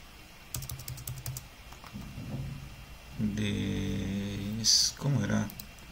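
Computer keyboard typing on a Windows 11 PC, a few bursts of quick clicky keystrokes between stretches of someone speaking Spanish, close and moderately loud.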